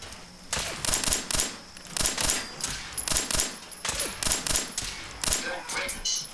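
Bursts of rapid gunfire ring out in Fallout 4, a series of sharp, evenly spaced shots in quick clusters, fairly loud and close.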